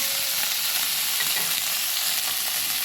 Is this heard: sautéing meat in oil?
yes